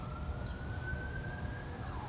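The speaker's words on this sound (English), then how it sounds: "we've got some sirens going." A faint siren wails in the distance, a steady tone drifting slightly in pitch over low background rumble.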